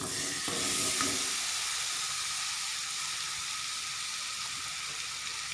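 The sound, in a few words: ripe papaya added to ghee frying in a pan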